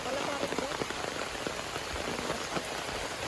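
Rain falling outdoors on farmland during a storm, a dense steady patter of drops on surfaces, continuous and fairly soft.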